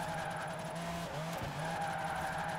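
A Ferrari 599 V12 engine at a Formula Drift event during a drift, its droning note held steady with brief dips and pitch shifts, loud and continuous, with a faint tire hiss over the top.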